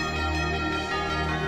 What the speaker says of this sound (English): Some bells.